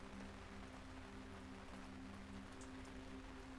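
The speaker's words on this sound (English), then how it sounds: "The sound of raindrops could be heard splattering against the pavement" Rain splattering on pavement on a dark, chilly evening in New York City: a soft, continuous hiss of falling drops, very faint and even throughout, with a low steady hum beneath it.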